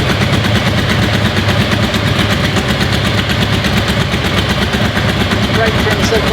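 A Bimota DB1 motorcycle engine idles after a cold start with the choke off, giving a steady, loud, rapid pulsing rumble that runs the whole time.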